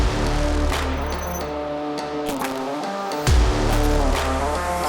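A Skoda Slavia and a Hyundai Verna, both 1.5 turbo-petrol manuals, launch in a drag race with traction control off, engines revving hard and tires spinning and squealing, then a sudden louder surge as they pull away.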